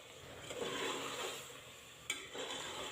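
Mutton being stir-fried for an Eid mutton karahi makes a faint, continuous sizzle with soft stirring, and one sharp clink of a utensil against the pan near the end.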